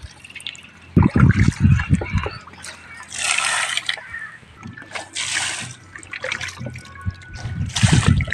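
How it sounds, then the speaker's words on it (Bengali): Water splashes and patters as it is sprinkled across a fish pond, coming in uneven bursts of spray and trickling, close and fairly loud, with crows cawing in the background. "তাহলে আমরা জল দিয়ে একটু ছিটাইয়া দিমু"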